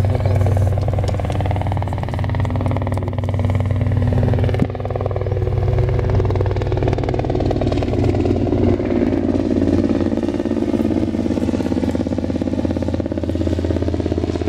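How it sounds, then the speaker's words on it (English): A steady airplane drone runs the whole way through, continuous and fairly loud, with a broad low rumble that shifts slightly over time and no talking. "You hear that airplane?"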